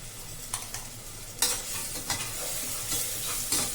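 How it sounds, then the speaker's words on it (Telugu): Ginger garlic paste fries in oil in a pan as a tempering for chicken pulao, with a soft continuous sizzle broken by repeated scraping stirs of a spoon, fairly quiet and without talk. "పచ్చివాసన పోయే వరకు అల్లం వెల్లుల్లి పేస్ట్ అయితే వేయించండి"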